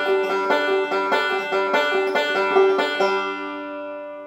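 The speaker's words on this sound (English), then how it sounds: "I'll do a forward roll into a forward reverse roll" Bluegrass banjo in open G picks a two-measure roll pattern, a forward roll turning into a reverse roll, with bright rapid plucked notes ringing evenly, then the last chord sustains and fades out alone.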